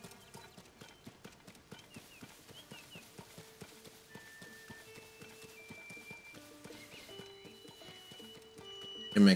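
Rhythmic clip-clop of horse hooves trots steadily while a horse whinnies in The Legend of Zelda: Tears of the Kingdom, with soft game music tones in the background and a louder burst at the end.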